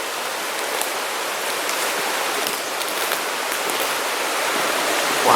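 A creek runs beside an old mine tramway, with steady broadband rushing water close by and no breaks throughout.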